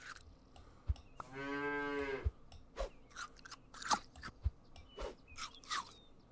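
A cartoonish cow moos once in the Super Auto Pets video game, surrounded by short crunchy chewing and clicking game effects at low volume.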